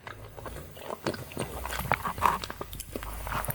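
Tapioca pearls from milk tea being chewed and bitten, giving soft, close-up wet crunching and smacking in irregular bursts over a low room hum, with no talking.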